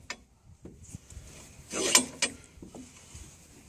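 A universal joint cross is pressed into its yoke with a vise, giving a few faint clicks and creaks followed by a brief louder metallic scrape and crunch as it seats, close and quiet otherwise.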